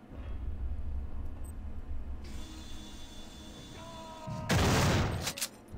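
Gunfire in the video game System Shock 2: a short, loud burst of shots rises abruptly out of quiet humming game ambience near the end, then drops away.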